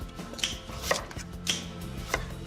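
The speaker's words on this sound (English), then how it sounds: "Chop. Spring onions through." Knife chopping spring onions on a board, about five crisp separate chops spread evenly across a short stretch, close and moderately loud with no talking.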